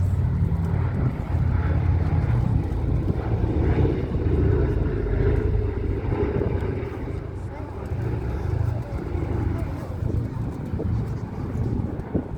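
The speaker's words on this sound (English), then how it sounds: "Sunny B is an example of the B-17G model of the Flying Fortress" A B-17G Flying Fortress bomber drones overhead at an airshow, its sustained, loud, low engine roar steady throughout. A voice talks over it, half masked by the noise.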